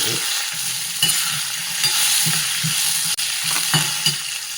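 Urad dal, green chilies and curry leaves fry in hot oil, a steady sizzle with occasional stirring clinks and scrapes of a spoon against the pan.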